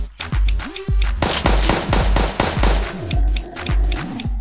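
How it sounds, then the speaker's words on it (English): Rapid bursts of automatic assault rifle fire in the tactical shooter Deadstone, dense and loud, with clusters of shots, short gaps and no voices. "That's my assault rifle. It's not particularly powerful. It's got a great rate of fire."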